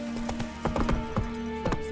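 Hooves of the horse Roach in The Witcher 3, a run of close clip-clop steps in an uneven trotting rhythm, clear and fairly loud.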